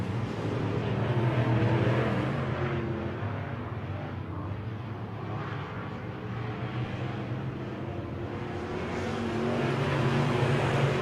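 Race cars roar around the oval at Lake of the Woods Speedway in a steady, loud engine drone. The sound swells and fades slightly as the cars pass, with no talk over it.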